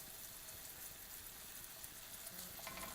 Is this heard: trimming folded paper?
no